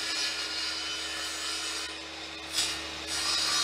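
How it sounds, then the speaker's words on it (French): Refining the edges of a wooden board in a workshop gives a steady, continuous abrasive hiss and rasp, close and even throughout with a slight swell near the end. "Il ne reste plus maintenant qu'à venir donc affiner les bords de cette planche."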